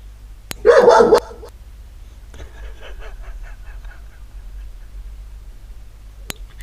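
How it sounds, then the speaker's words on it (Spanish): Dogs barking outdoors, one loud close burst of barks near the start followed by fainter, more distant answering barks over a low background hum. "Qué lindo que los nenes pasan y le ladran. Y allá le contestan."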